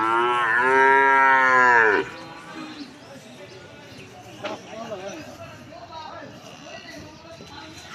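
A cow gives one long, loud, close moo at a crowded rural cattle market in Manikganj, followed by a busy murmur of people talking and faint livestock sounds in the background.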